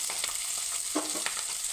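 Onions tossed into hot tempering oil with seasoning seeds for a Telugu brinjal fry sizzle and crackle steadily, close and fairly quiet, with brief spatters and a scrape of a ladle.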